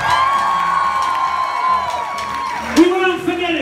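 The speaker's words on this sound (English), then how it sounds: "So give yourselves a round of applause." A concert crowd at a show in Honolulu in 2016 cheers, whoops and applauds loudly, with sustained ringing tones from the stage and voices shouting through the noise.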